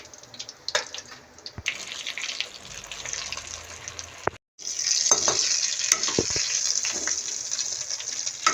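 Chicken leg pieces fry in hot oil with a steady, close sizzle and crackle, broken by a brief silence midway before the frying resumes louder and brighter.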